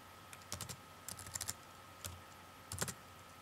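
Light keystrokes on a computer keyboard come in several quick clusters of clicks, soft and close, with short pauses between bursts, while a word is typed into a form field.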